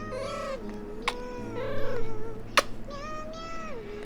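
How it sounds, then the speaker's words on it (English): A cat in heat yowls in long, wavering, drawn-out cries, several in a row, with a low steady hum underneath and a couple of sharp clicks. "my cat is horny"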